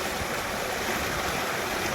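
Warm water gushes from a farm borewell in a steady, dense, close rush of flowing water, with no talking.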